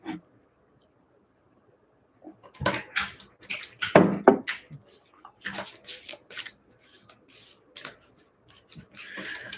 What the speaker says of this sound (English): So I'm just going to take a moment to shuffle.